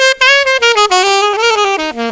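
Close-miked saxophone playing a short bebop phrase through a DPA microphone, bright and loud with quick stepwise notes sliding downward, heard alone without talking.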